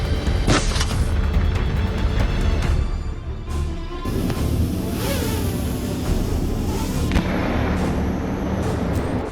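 A loud, heavy gunshot blast booms close by, followed by a deep rumbling echo that lingers under continuous engine-like noise.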